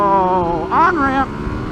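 A motorcycle revs hard while accelerating up an on-ramp with the front wheel lifting, its engine tone climbing and swelling loudly close by before easing off.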